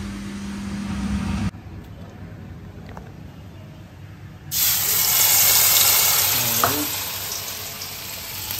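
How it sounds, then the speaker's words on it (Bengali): Bora fritters frying one by one in hot oil, a steady broadband sizzle that drops away briefly then returns louder and fuller, with faint scraping from turning them in the pan. "চলো বড়াগুলো ভাজি একটা একটা করে।"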